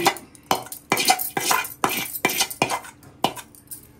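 A utensil scrapes and clanks against a pot while rice is mixed with salt and mango fry for mango pulihora, giving repeated sharp metallic strokes in an uneven rhythm, close and clear with no talk.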